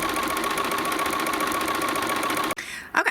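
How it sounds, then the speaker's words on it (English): A sewing machine runs steadily, sewing long basting stitches for a gathered round pillow, a fast even whir that stops abruptly near the end, followed by a few faint handling sounds. "So I have my basting stitches sewn in, or my long stitches to do the gather."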